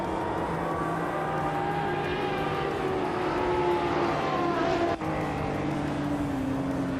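Race cars roar through a video game race, several engine tones droning and shifting pitch together as cars overtake, with a brief dip near the end before the steady engine noise resumes; no one talks.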